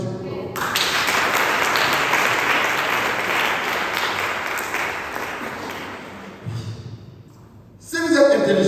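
A church congregation breaks into loud, sustained applause that fills several seconds before fading, followed by a brief quieter tail of scattered sound and talk, then a sharp burst again at the end.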